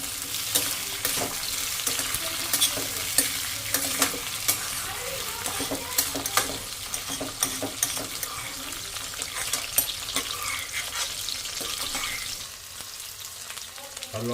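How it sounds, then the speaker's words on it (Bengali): Onion and capsicum fry in a pan for chilli chicken, a bright steady sizzle broken by repeated scraping and stirring taps of a spatula, close and fairly loud, with no voices. "এরকম করে প্রথমে ভেজে নিই পেঁয়াজ আর ক্যাপসিকামটা"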